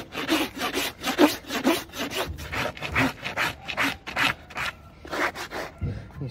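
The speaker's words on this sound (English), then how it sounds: "Start giving this a rasp up now." A rasp files down a horse hoof with old nails stuck in it, a close, rhythmic series of rough scraping strokes about three per second, steady and loud with no talk over it.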